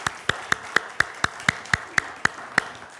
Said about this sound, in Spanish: dale un aplauso al Señor y dale gracias si eres un carbón encendido